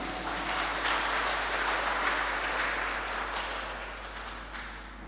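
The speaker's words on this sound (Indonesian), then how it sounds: "Kita tepuk tangan dulu untuk HKBP Tamarunang" A church congregation at HKBP Tamarunang applauds during a New Year's Day service, a steady wash of many hands clapping that holds for about five seconds and slowly fades, over a low constant hum.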